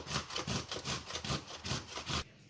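A giant zucchini is rubbed by hand against a grater over a towel, giving steady rhythmic scraping strokes, close and moderately loud, about two per second, before stopping abruptly.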